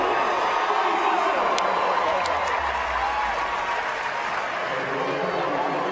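Crowd cheering in a soccer stadium at the 2016 CrossFit Games during the men's Murph event, a broad steady roar of the crowd under a commentator's voice.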